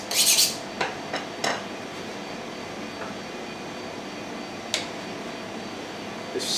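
A butcher knife gets a few quick sharpening strokes, bright metallic scrapes clustered at the start and a couple more later, over a steady background hum.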